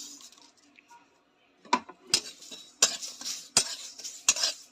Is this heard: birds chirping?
no